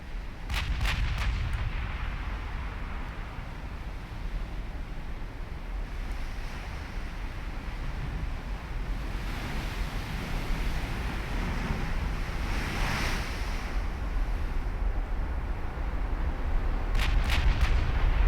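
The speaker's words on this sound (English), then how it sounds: "Whatever we're firing at's going to have a really bad time." Battleship main guns firing shells in a naval game, Mega Yamato against a Spanish battleship; sharp booming salvos at the start and end over a continuous rushing sea-and-wind bed, no talk.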